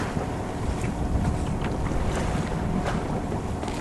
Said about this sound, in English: Just loads of wind.